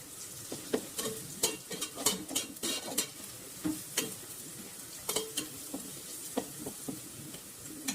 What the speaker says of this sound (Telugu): ఇప్పుడు మనం పసుపు వేసుకుంటాం. దీంట్లో ఒకసారి కలుపుకుందాం.